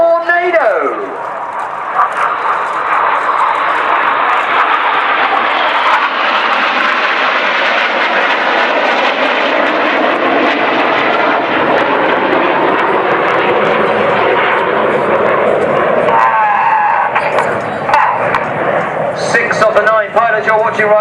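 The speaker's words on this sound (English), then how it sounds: "in from the right, this is Tornado!" A Panavia Tornado bomber jet flies past at an airshow, its loud, sustained roar building and holding steady for about twenty seconds under an announcer's voice.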